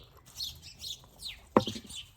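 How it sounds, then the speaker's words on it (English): Birds chirping outdoors in the morning, a few faint, scattered tweets and calls with one sharper, louder chirp near the end, set against quiet background ambience. "Oh, the birds, they love the mornings."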